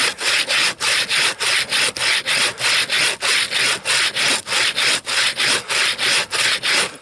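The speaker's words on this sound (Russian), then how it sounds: "как она пилит мертвую древесину" A hand saw cuts through dead wood in rapid, steady back-and-forth strokes, each rasping pass loud and close with brief gaps between, in a frozen taiga forest.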